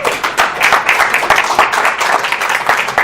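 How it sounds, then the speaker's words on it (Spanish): Church congregation breaks into applause during a Spanish-language sermon, a dense, steady patter of many hands clapping fairly close and loud with scattered sharper claps, no talk over it. "Den un aplauso a Dios."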